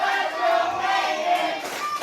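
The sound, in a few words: pro wrestling crowd cheering and rallying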